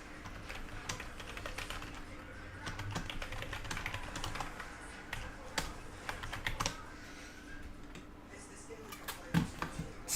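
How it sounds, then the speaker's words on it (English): Computer keyboard typing during a live sports card group break, a steady run of light clicking keystrokes close by with a low background hum and a few louder clacks near the end. "Gilo, you can see my typing skills again."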